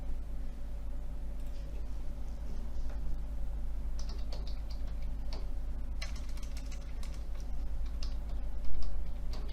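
Fingers type a bank user ID and password on a computer keyboard, a light, steady run of soft clicks close by over a constant low hum, with no talking.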